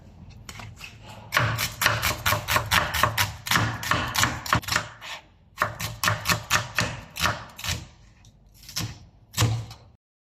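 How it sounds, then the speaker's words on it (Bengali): A knife chopping two onions on a cutting board, a quick run of sharp, close knocks in steady bursts with a short pause between them, and no talking. "আমরা এখন কেটে নেব দুটি পেঁয়াজ।"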